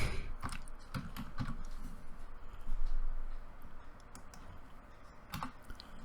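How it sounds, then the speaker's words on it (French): Keystrokes on a computer keyboard during a geolocation search in genealogy software, ending with the Enter key; several sharp clicks cluster near the start and another near the end, fairly close and moderately loud over steady room noise, with no talking. "on pèse sur la touche Enter du clavier"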